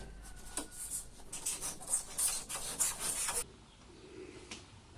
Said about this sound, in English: now we are gonna cut the excess foam with the X-Acto knife